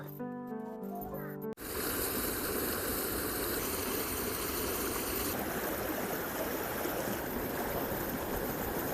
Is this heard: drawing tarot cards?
no